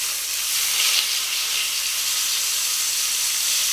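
A salmon fillet pan-fries skin side down, making a loud, steady hissing sizzle with a steam-like rush and no breaks, heard alone without talk.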